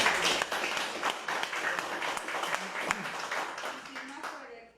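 Audience applause greets a colonel introduced as a speaker at a security and executive protection seminar, a steady wash of clapping that runs several seconds and fades out at the end.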